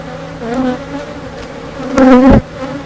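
Honeybees buzzing at a hive box being filled with nectar, a close, loud hum with one bee passing right by and swelling briefly before it fades.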